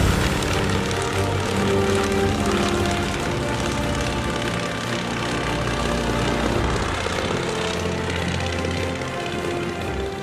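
Propeller airplane flying with a steady, loud engine drone and airscrew hum throughout, a continuous close-up roar with no talk.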